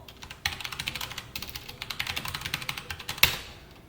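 Close-up fast typing on a computer keyboard, a dense run of crisp key clicks ending in one louder, sharper keystroke like the Enter key.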